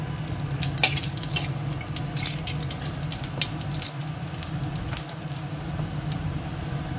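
Fish frying in a pan with dried red chillies and cumin, a steady hiss and crackle of oil running the whole time, with occasional sharper spits and light utensil clinks.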